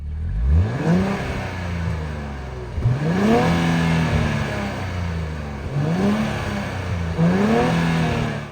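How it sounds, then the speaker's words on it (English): A turbocharged 2023 Nissan Z engine revs up repeatedly in several rising surges, each climbing in pitch then falling back, loud and close, with no voices. "Let's listen to see what the new turbocharged engine sounds like."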